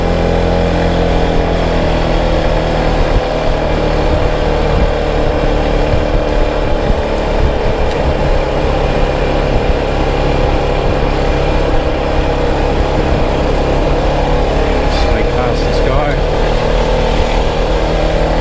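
An Isuzu vehicle's engine labours up a hill toward a Pattaya overlook, a steady, loud low drone with wind rumble throughout, under intermittent talking.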